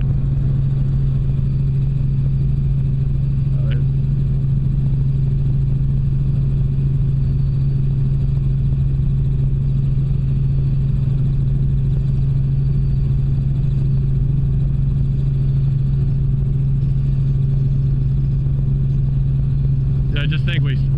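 A helicopter flies toward Cataract Glacier, its steady loud rotor and turbine drone filling the cabin without a break and nothing else clearly rising above it.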